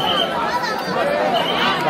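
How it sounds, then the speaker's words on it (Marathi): Dense crowd chatter at Ekvira temple, many overlapping voices forming a steady, close babble with no single sound standing out. "बघा गर्दी"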